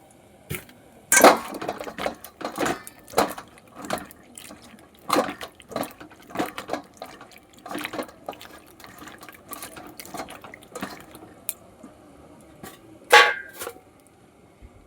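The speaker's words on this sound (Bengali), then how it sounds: "এবার আমি এখানে কলাগুলো আর একটু জলে আমি ধুয়ে নেব, ভালো জলে।" Raw green bananas are washed by hand in a bowl of water, giving irregular close splashes, sloshes and drips, with a couple of louder splashes and quiet pauses in between.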